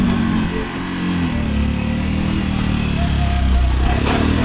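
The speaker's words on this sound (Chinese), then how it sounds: "拖拉机要出来" A tractor engine drives out through a gate at the Norbulingka gardens in Lhasa, Tibet, near a building site. Its loud, steady low rumble runs throughout with no talking.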